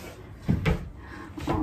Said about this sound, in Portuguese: Acho que eu vou pegar as gavetas do André.